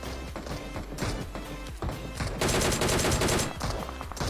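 Gunfire in a battle royale game, with a UMP45 and other weapons, comes as dense bursts of sharp shots and rapid automatic fire, growing louder and heavier midway, with no talk.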